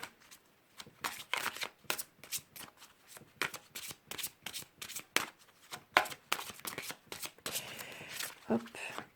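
Oracle cards are shuffled in quick, crisp riffling bursts, close and continuous, with a person speaking quietly at moments.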